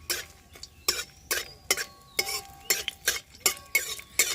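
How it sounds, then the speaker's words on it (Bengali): Bay leaves with whole cloves, cardamom pods and cinnamon stick frying in oil for a chicken stew, heard as a string of close, sharp clinks and scrapes of a spoon stirring in a pan, with a faint sputter beneath. "তো ফোড়নে আমি দিয়ে দেবো দুটো তেজপাতা, আর দিয়ে দেবো গোটা গরম মশলা"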